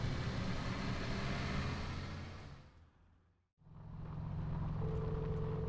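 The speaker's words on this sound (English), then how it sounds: "The car shook and rattled over the uneven ground, tumbling us around like an iron coffin on wheels" An armored car rattling and rumbling over uneven ground in the game Trails of Cold Steel, a steady loud engine drone that fades almost to silence, then returns with a low hum and a faint tone.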